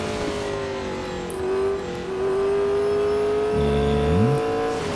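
Race car engine in Real Racing 3 on the Porsche curves with worn tires, a loud, close tonal whine that rises and falls through gear changes and revs, with a short, deeper burst near the end.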